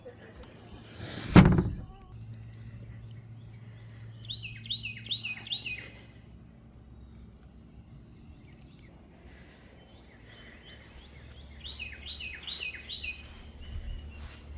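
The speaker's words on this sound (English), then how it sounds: "The birds are singing this morning." Birds sing on a spring morning after days of heavy rain, two short bursts of rapid repeated chirps heard at a distance, with a loud thump near the start and faint background hum.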